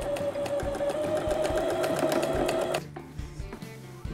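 Sewing machine stitching fabric pieces together for chair upholstery, a steady fast mechanical whir with rhythmic needle ticks for nearly three seconds, then stopping abruptly into quieter room sound.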